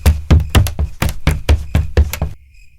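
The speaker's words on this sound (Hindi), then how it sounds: "खिड़की पर कोई दस्तक दे रहा है।" Sharp knocks on a window at night land in a quick, uneven series of about a dozen raps, loud and close, then stop, leaving near silence.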